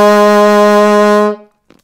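Low F on an alto saxophone, a single sustained note held steadily for about a second and a half, close and loud, then cut off into silence.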